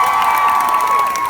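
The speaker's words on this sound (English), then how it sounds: "Give her a big round of applause." A convention crowd at San Diego Comic-Con cheers and applauds, a loud, dense roar of voices and clapping with a steady tonal whistle running through it, brief and close.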